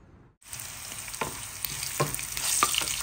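Garlic hits hot olive oil and sautés with a loud, continuous sizzle for ginisang ampalaya, broken by a few sharp stirring scrapes and clinks of a utensil against the pan.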